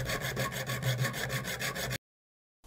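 A hand hacksaw cuts through aluminium tube with a steady back-and-forth rasping rhythm of about a dozen even strokes, close and loud, then stops abruptly into silence.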